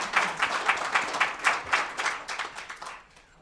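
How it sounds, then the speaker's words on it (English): Audience applause at a 2019 event honoring the legacy of Dr. Martin Luther King Jr., a steady wash of many hands clapping that swells and then gradually thins and fades over a few seconds. "Give her a round of applause."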